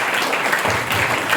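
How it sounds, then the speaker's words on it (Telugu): Dense, loud applause from a church congregation at a Holy Mass for the St. Joseph feast, a steady wash of many hands clapping with no gaps. "అందరం కూడా గట్టిగా చప్పట్లు కొట్టి కృతజ్ఞతలు తెలియజేస్తాం"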